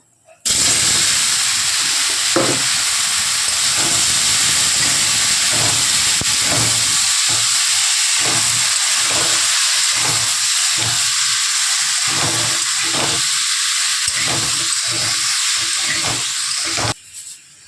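Mango pieces frying in hot oil with spices in a pan for a mango chutney, a loud continuous sizzle and hiss running steadily throughout with faint stirring knocks underneath.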